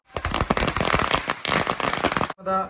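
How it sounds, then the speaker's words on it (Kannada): Rapid, dense crackling bursts of firecrackers going off continuously at a birthday celebration, loud and close, ending abruptly with a brief different tone. "ಪಟಾಕಿ ತಂದಿದ್ದಾರೆ"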